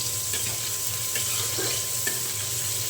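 Chopped onion and garlic frying in a pan for a jackfruit curry, a continuous close sizzle with several soft stirring scrapes and a low hum underneath.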